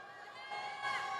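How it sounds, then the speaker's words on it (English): Young fans and students roar at a basketball game in Biñan City, a steady crowd swell that grows louder toward the end of the brief moment. "And he's hearing it from the Biñan crowd."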